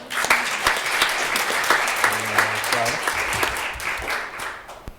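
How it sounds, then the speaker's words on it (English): An audience at an education event claps in a lively round of applause for a school program, many hands at once with a voice briefly over it, tapering off at the end. "let's give the Web Academy a big round of applause"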